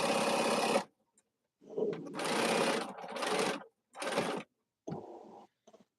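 Sewing machine stitching quilt rows in short, loud bursts of rapid mechanical whirring, with several brief pauses between runs and a softer final stretch.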